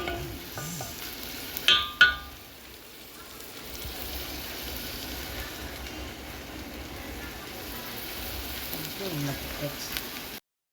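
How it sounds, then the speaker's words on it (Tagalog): Tomatoes and other ingredients fry and get stirred in a pan, a soft continuous sizzle with scraping stirs, quiet and fairly close; a few sharp clatters sound early on. "Imekos-mekos mo na yan para lumabas ang totoong aroma ng mga ingredients"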